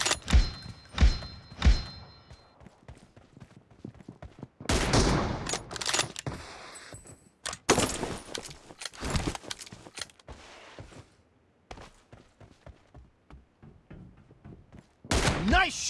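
Gunfire in a PUBG team deathmatch with the M24 sniper rifle, heard as scattered sharp shots and thuds across the span with a few heavy louder bursts, plus brief game voice callouts.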